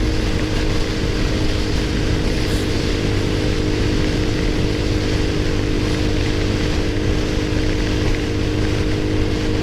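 An XPro Roadster X24 motorcycle cruising on a highway gives a steady, loud engine drone blended with heavy wind roar, unbroken and constant throughout.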